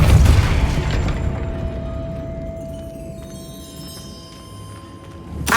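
Casting the Depulso spell in Hogwarts Legacy produces a deep booming burst at the start that decays into a lingering magical hum and faint chimes, ending with another short whoosh.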